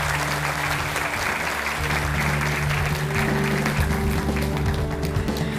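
A studio audience on a television talk show claps in welcome for a guest, steady dense applause holding throughout over a low sustained tonal hum.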